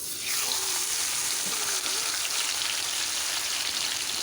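Fish rubbed with salt and turmeric frying in hot oil, a dense, even crackling sizzle that swells in just after the start and holds steady and close with no voices.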